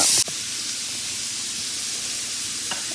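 Onions and bell peppers sauté in a skillet, giving a steady, close sizzle and hiss that follows a brief sharp burst at the start and holds evenly, with no talking.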